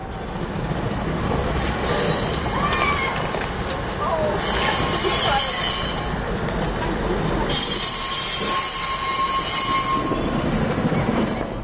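A Danish IC3 diesel railcar rolls past close by, wheels squealing sharply over a steady mechanical rumble, loud throughout.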